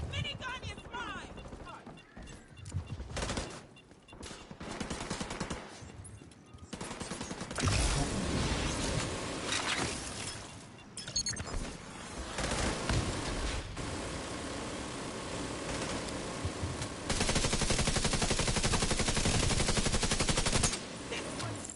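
Sustained minigun fire in The Division 2 on PS5, a dense continuous roar of rapid shots broken by short pauses, loud and close, with a voice talking over parts of it.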